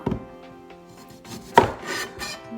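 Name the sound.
chopping vegetables into fry shapes with a knife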